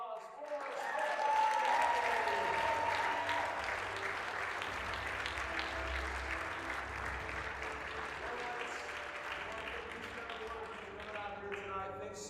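Sustained applause from a dinner audience honoring an award recipient at a college baseball foundation awards banquet, a steady, dense wash of clapping that swells early and holds for the full length, with some voices mixed in.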